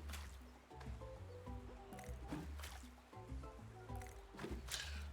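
Water splashes and drips from a water bucket as crops are watered in the video game Roots of Pacha, with soft repeated squishy pours over quiet tonal background music.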